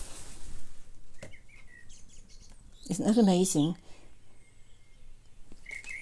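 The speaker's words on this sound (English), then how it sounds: "Blackbird on tap." Soft blackbird song with short whistled phrases, heard near and faint, while a person speaks briefly in the middle.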